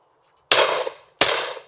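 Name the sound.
shotgun shot at a driven clay target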